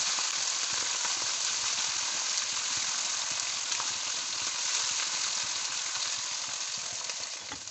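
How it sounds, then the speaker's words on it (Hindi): Garlic and ginger fry with browned onions in a pan for chicken feet curry, a steady, close sizzle running unbroken throughout with no talking. "अब हम इसमें ये लहसुन अदरक डालेंगे और इसको भी थोड़ा सा हम भूनेंगे"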